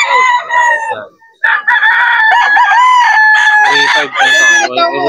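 A bullstag rooster at a pet market lets out loud, close, drawn-out crows with a short break between them, plus some clucking near the end.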